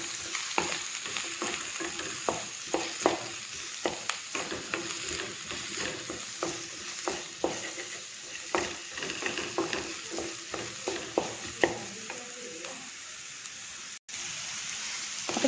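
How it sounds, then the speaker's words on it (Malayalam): Onion and green chili sauté in a hot pan, a steady sizzle broken by frequent scraping stirs, close and moderately loud with no talking. "ഇനി നമുക്ക് ഉള്ളി പച്ചമുളക് ആഡ് ചെയ്യാം. നമുക്ക് നന്നായിട്ട് ഒന്ന് വഴറ്റാം."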